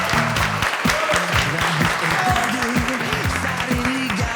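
Studio audience applause on a comedy show, steady broadband clapping throughout, mixed under a music or jingle with a steady tonal line beneath.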